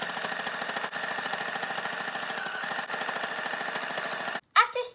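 Sewing machine running steadily with a rapid, even mechanical chatter as it stitches a straight line along a folded quarter-inch fabric edge for a face mask, stopping abruptly near the end with a brief clunk.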